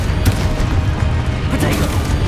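Explosive spell blasts in a Hogwarts Legacy fantasy combat scene, a dense, loud, continuous rumble with sharp bursts and crackling impacts throughout.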